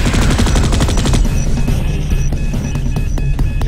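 Rapid automatic gunfire from the video game Space Beast Terror Fright, a loud dense burst of shots that thins into scattered bursts toward the end.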